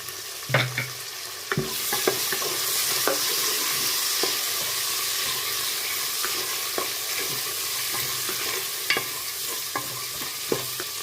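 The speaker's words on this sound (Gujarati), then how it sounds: "હવે આપણે આમાં શાકભાજી બધા છે તે નાખીશું। વટાણા, ગાજર," Peas and carrots drop into a hot pot of oil and spices for vegetable khichdi, setting off a loud, steady sizzle with scattered clinks and stirring scrapes from a spoon against the pot.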